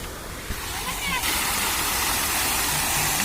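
Water flowing at a garden park, a broad steady rushing roar that swells louder partway through and stays constant, with faint background noise.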